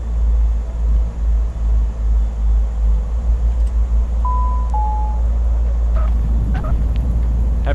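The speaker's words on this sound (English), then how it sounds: "Heavy on the brakes and reversers." An airliner in Microsoft Flight Simulator 2024 brakes hard with thrust reversers on landing, a loud, continuous low roar with pulsing rumble and a brief steady electronic tone partway through.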